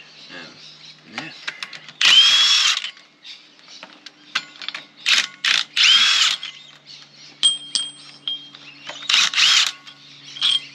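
Bolts on a Unimog portal axle are undone with a ratchet and a power tool, giving close, sharp bursts of whirring and clicking separated by pauses, with occasional talk between them.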